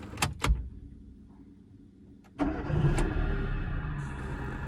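A Chevrolet Spark's 4-cylinder petrol engine starts: a couple of clicks and a short crank, then the engine catches and settles into a steady, close idle with no talk.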